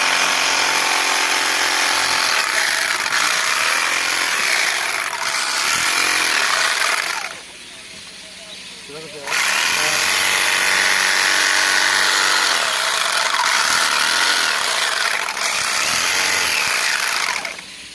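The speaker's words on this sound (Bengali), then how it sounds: "এই মেশিনগুলো এই দেখো সেলাই হয়ে যাচ্ছে অল্প সময়ের মধ্যে যে ব্যাগ সেলাই হয়ে যাচ্ছে" Generator-powered sewing machines stitch geo bags, giving a loud, harsh mechanical whine and buzz that runs in long stretches, cuts out briefly midway, then starts again and continues steadily.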